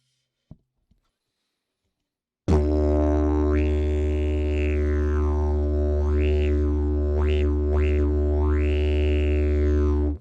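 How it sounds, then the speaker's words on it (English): A didgeridoo drones loudly and continuously after a short silence, with mouth shaping sweeping its harmonics up and down in repeated wavering vowel-like swells. "so the didge is creating all this rich tonality."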